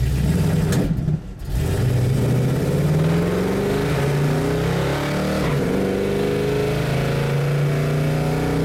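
A Buick car accelerates hard on a test drive, its engine pitch climbing steadily and then dropping sharply at an abrupt, hard gear shift before it climbs again, loud and close with no talking.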